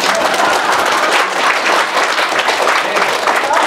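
Sustained applause from a church audience during a Lenten lecture by a priest, dense steady clapping filling the whole stretch at an even, loud level.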